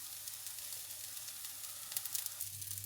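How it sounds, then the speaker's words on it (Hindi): A radish paratha sizzling in a pan after being flipped, a faint steady frying crackle with a slightly busier patch of sputtering toward the end. "अब मैंने इसको पलट लिया, दूसरी तरफ और भी इसको पकने देंगे"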